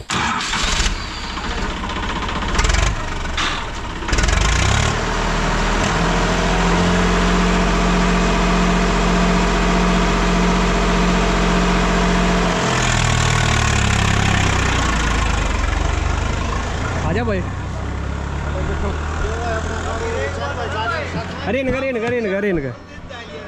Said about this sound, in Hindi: चल तो ट्रैक्टर स्टार्ट कर भाई, चल।